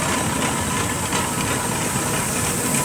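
A steam car engine runs at the Strumpshaw steam rally with a loud, steady mechanical chugging and rumble, continuous and close, with no speech.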